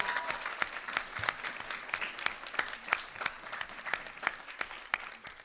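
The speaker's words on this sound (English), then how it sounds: "Let's give a big round of applause." Audience applause at a memorial celebration event, a moderately loud patter of many hands with distinct sharp claps standing out throughout.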